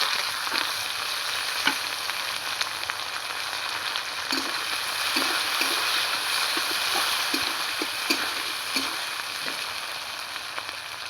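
Garlic frying in hot oil, with onions about to go in for a snakehead fish chilli dish, gives a steady close sizzle and crackle with scattered pops throughout.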